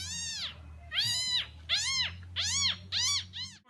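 A man imitates a cat, voicing six loud, close meows in a row with short gaps between them and no other talk.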